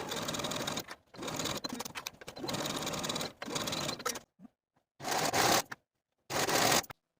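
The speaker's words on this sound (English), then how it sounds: "Sew your shoulder seams with a 3/8 inch seam allowance and finish your seams with a zigzag stitch or your serger." A sewing machine stitches the shoulder seams of a linen jacket in several steady running bursts, close and clear, with short silent pauses between runs.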